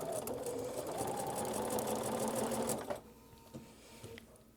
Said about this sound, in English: I'm going to stitch from that open piece right to that fold